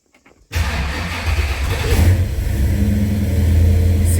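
A 1966 Ford Mustang with a Holley fuel system starts after a few faint clicks, then its engine catches abruptly and settles into a loud, steady idle with a deep rumbling tone.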